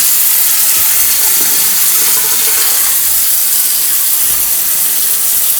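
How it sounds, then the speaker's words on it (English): Tap water runs steadily into a kitchen sink, filling the drain's P-trap: a continuous close hiss and splash of flowing water with no talk, holding even throughout. "Just got to fill up with water in the P-trap and then it'll start correctly draining"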